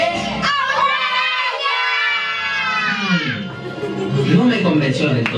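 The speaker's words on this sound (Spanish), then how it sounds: "A la cuenta de tres gritarán ¡Hombre Araña!" A group of children at an Avengers-themed birthday party shout together in one loud, drawn-out, high-pitched cry that breaks into scattered excited voices and crowd noise, close and energetic.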